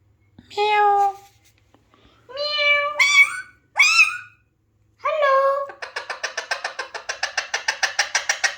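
An Alexandrine parrot gives several loud, close, harmonic meow-like calls imitating a cat, separated by short pauses, then ends with a fast rhythmic run of repeated chattering notes.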